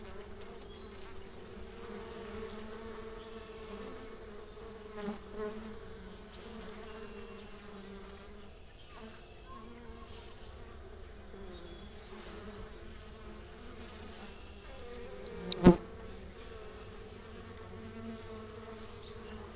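A steady, low hum of honey bees buzzing around their hive during the April 8, 2024 solar eclipse continues throughout, close and even, with one brief sharp click near the end.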